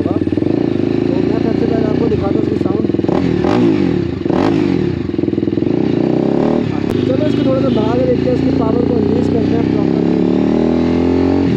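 TVS Apache RR310 motorcycle fitted with a LeoVince Cobra full-system exhaust, loud and close, with a raspy engine note rising and falling through revs and some clattery mechanical noise.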